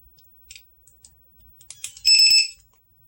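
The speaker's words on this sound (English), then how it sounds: "So this is your low voltage alarm." A loud, piercing electronic low-voltage battery alarm beeps in a quick burst of tones after a few soft clicks, with no talking.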